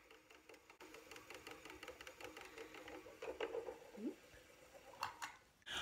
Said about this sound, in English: So let's get the spinner started.